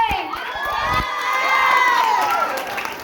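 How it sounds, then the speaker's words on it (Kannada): Audience at a dance performance cheering loudly for a dancer called to the stage, a sustained chorus of excited shouts and whoops from many young voices with faint clapping beneath. "ಐಶ್ವರ್ಯ ಜೋರಾದ ಚಪ್ಪಾಳೆ."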